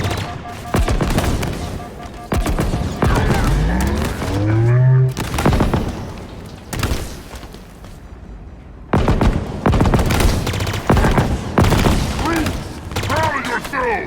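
Loud, dense gunfire from the Halo Infinite campaign comes in repeated automatic bursts with booming impacts, separated by short gaps, while game voices call out between the volleys.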